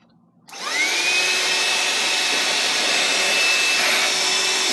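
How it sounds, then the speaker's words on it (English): A ZesGood wet/dry vehicle vacuum switches on after a brief quiet moment, then runs with a loud, steady motor whine and airy suction roar, holding a constant pitch close by with no talking. "Good suction power. I just want y'all to see the suction."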